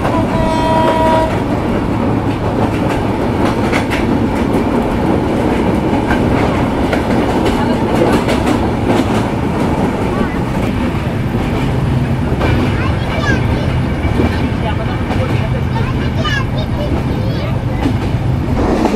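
Sagardari Express passenger train running from Khulna past Daulatpur Bazar, Bangladesh, its wheels clacking steadily and loudly in a continuous rumble, with a brief horn toot early on and speech faintly audible over the noise.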